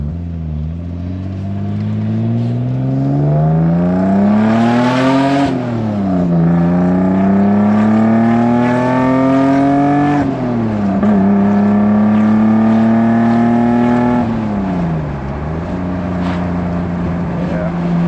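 A Toyota Supra rally car engine runs while driving, a loud close steady drone that rises and falls with shifts and acceleration, tone climbing then dropping several times.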